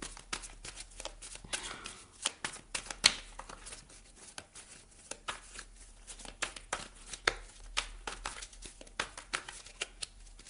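A deck of tarot cards is shuffled for a reading, with soft repeated riffling and tapping clicks at close range in an otherwise quiet room.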